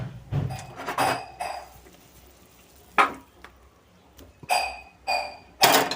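Rohu fish pieces for kalia go into a pan of oil and water one by one: a series of sharp, close clinks and short sizzling bursts, separated by quiet gaps.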